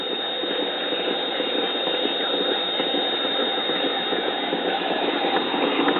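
Steady mechanical hum and whir from the motor of a 1942 Packard Bell wireless record player running sluggishly and in need of lubrication, an unbroken drone that stays level throughout, close and moderately loud.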